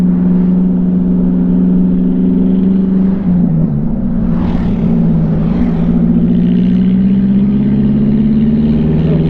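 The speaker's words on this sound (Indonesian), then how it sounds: "Knalpotnya brong pula mobil nih. Berisik." A car with a loud modified exhaust drones steadily and close by on a road trip in West Sumatra, its low rumble rising and falling slightly as the engine works, with no talk over it.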